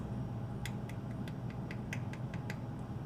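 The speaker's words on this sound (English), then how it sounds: "See how they sound kind of hollow and light?" Baked, cooled macaron shells tapped by hand, giving about a dozen light, hollow clicks in an uneven rhythm over a low steady background hum.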